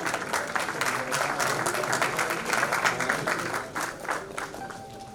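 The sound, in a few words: audience applause at nursing college award ceremony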